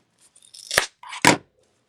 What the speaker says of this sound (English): Cut off the back.